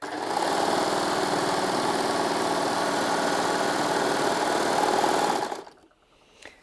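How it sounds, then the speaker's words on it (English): Baby Lock Desire 3 overlocker running a 3-thread overlock stitch on cotton fabric: a steady, close mechanical whirr with fast rhythmic chatter for about five seconds, then stopping abruptly into near quiet. "I'm just going to go ahead and sew a 3-thread overlock on this cotton fabric"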